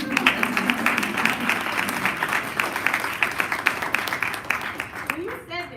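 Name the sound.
audience applause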